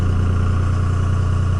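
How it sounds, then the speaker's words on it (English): A 2002 Dodge 24-valve Cummins HO diesel engine idles at high idle while cold and running in 3-cylinder mode, a steady loud, rough, low-pitched drone with an uneven pulsing rhythm. "And you hear it change right away. It drops into 3-cylinder mode."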